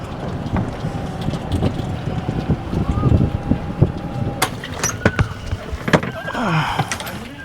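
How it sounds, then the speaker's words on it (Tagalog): Strong wind buffets the microphone on an open golf course, a fluctuating low rumble with gusts rising and falling across the clip and a few faint knocks mixed in. "Parang lakas ng hangin, Maria"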